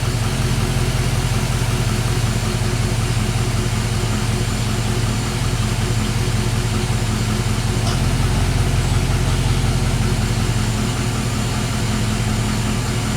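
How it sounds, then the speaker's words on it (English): Chevy Silverado engine with a knock problem running steadily after cranking, a dense continuous mechanical drone with a low rumble and fine rapid ticking, close and loud throughout with no talk. "To crank the engine over."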